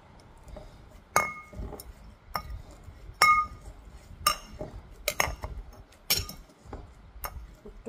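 Fresh mint leaves and sugar muddled in a glass for a mocktail, giving a series of sharp, evenly spaced clinks and taps against the glass, close and fairly clear.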